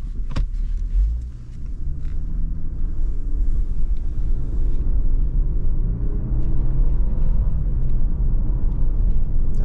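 A 2024 Lexus LX 600 SUV drives fast toward a jump, its engine and tyre rumble building into a loud, steady roar close by, with a brief thump and clatter near the start and no talking.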